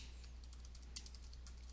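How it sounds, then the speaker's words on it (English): Quick, light keystrokes on a computer keyboard sound in a fast, even run of close taps, with one slightly louder press midway through the quiet clip. "you can certainly use your keyboard to move around, and then you start typing"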